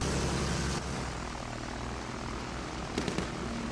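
A bomber aircraft's engine in Battlefield 1, heard as a steady, loud, broadband propeller drone that holds throughout, with a few faint clicks near the end and no voices.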